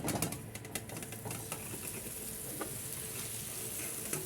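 Kunafa frying in ghee in a pan gives a steady close sizzle and crackle throughout, with a few scattered pops and light clinks over the hiss.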